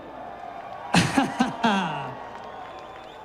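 Race fans in a packed crowd at the Eldora Million dirt track event roar and whoop in a few loud bursts over about a second, then the noise fades into a steady murmur.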